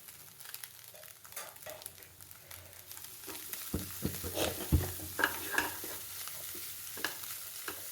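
Food frying in a pan with coriander leaves added, a soft sizzle under intermittent spoon stirs and scrapes that grow busier partway through, close and fairly quiet, with no talking.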